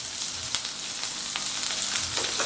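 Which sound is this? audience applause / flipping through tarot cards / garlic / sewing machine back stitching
garlic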